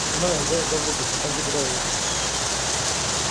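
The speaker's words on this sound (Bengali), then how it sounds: "দেখো কত বৃষ্টি পড়ে" Rain falls in a steady, dense hiss throughout, with a voice talking briefly over it near the start.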